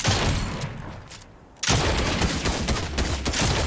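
Shotgun blasts in a Fortnite match fire off in quick succession, loud and close, with sharp booming reports and rattling gunfire overlapping, broken by a brief lull before the shooting resumes.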